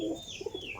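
A pet pigeon gives a brief, soft coo nearby, a short murmuring call lasting under a second.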